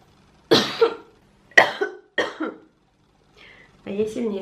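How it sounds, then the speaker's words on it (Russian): A sick person coughs three times in separate harsh bursts, close and loud, and then someone speaks briefly. "А я сильнее кашляю"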